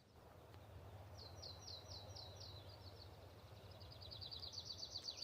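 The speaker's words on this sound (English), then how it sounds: "All I hear are birds." Faint, rapid bird chirps trill in short bursts over a low outdoor rumble at an Arizona campsite, distant and quiet.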